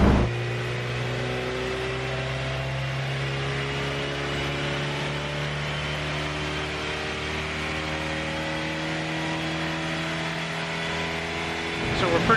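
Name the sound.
Honda Integra Type R engine idling while warming up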